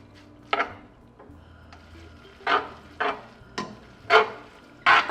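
Ramen noodles being stirred with sriracha sauce in a pot, giving several separate wet, squelching swirls and clacks at an uneven rhythm, close and moderately loud, with no talking.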